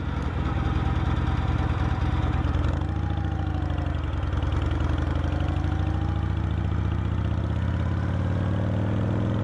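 A Shovelhead motorcycle engine runs steadily throughout during carburetor tuning, a loud, continuous low rumble with a slight shift in pitch partway through as the throttle changes.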